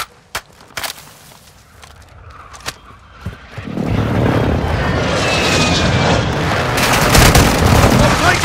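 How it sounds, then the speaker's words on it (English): Enemy precision airstrike in Call of Duty Warzone 2.0: a few sharp thumps give way to a sustained roaring rumble of jets and blasts that builds and stays loud, with voices over it. "Enemy precision airstrike."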